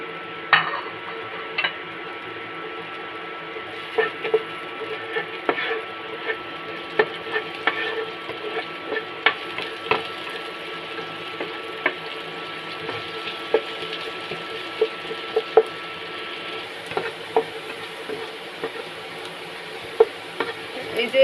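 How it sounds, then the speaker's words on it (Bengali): Chopped onions frying in hot oil for a soybean roast, a steady sizzle broken by frequent sharp scrapes and clicks of stirring against the pan, close and continuing for about twenty seconds without talk. "এই যে পেঁয়াজগুলো ভাজা ভাজা হয়ে আসছে"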